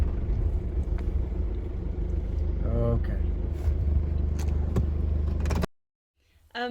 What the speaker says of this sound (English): that was Ziva driving the car